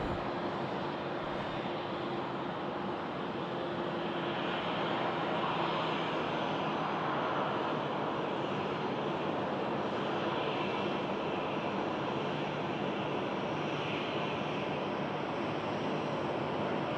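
Jet aircraft at Sydney Airport roar in a broad, steady wash of engine noise heard from a distance during plane spotting, continuous and unbroken with no talking.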